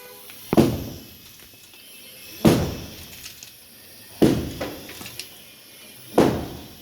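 Hammering from a roof being broken up for construction right next to a window: four loud, sharp impacts spaced roughly two seconds apart, each with a short ringing decay, close by and with no talk.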